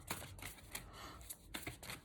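Large tarot cards are shuffled by hand in quick, faint riffling bursts, with soft papery flicks and slaps repeating every fraction of a second, close by and without talk.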